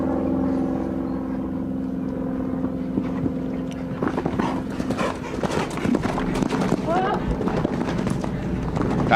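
Show-jumping horse hooves thud on a grand prix course at the 2001 Producers' Cup, muffled under steady broadcast commentary and a continuous crowd and arena hum.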